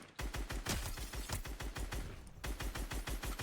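Rapid bursts of automatic gunfire in a Fortnite match, loud and steady with a short break partway through before the shots resume.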